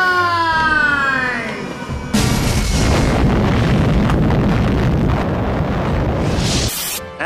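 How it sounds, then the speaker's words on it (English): A fireworks display erupts: descending whistling streaks give way to a sustained, loud crackling and booming roar that carries on for several seconds before cutting off abruptly. "Prepare to be blown away by the most breathtaking fireworks display you've ever seen"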